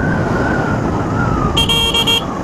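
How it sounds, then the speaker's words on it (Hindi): A car horn sounds with a steady electronic tone on a bend of a mountain road between Budakedar and Uttarkashi. It comes in a short burst of several quick pulses late in the clip, over constant road noise. "पहाड़ों पे कभी भी चलना है तो मोड़ों पे हॉर्न देना बहुत जरूरी है"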